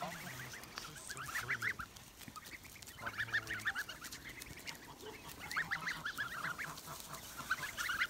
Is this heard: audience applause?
no